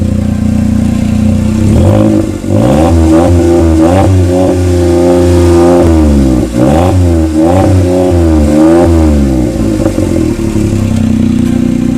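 Smart car fitted with a new exhaust, revved repeatedly while parked, capped around three thousand rpm; loud, close rasping engine climbing and dropping in several rhythmic bursts with no talk.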